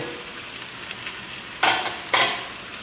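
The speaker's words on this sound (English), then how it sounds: "Mix it all up and just let it fry all together for a few minutes." Carrots and other vegetables fry in a pan for green bean vegetarian rice, a soft steady sizzle broken by two louder stirring scrapes near the end.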